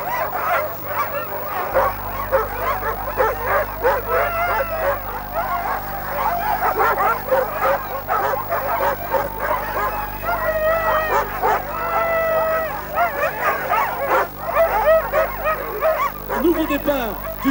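A team of sled dogs at a Haute-Maurienne-Vanoise race start barks, yips and howls in an excited chorus, overlapping calls pulsing continuously near and far over a low engine-like hum, with some voices mixed in.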